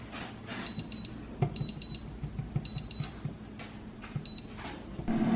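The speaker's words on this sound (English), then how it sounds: "timer went off" Short bursts of high electronic beeps from an air fryer timer in quick groups of two or three, repeating several times over a low background hum and faint clatter.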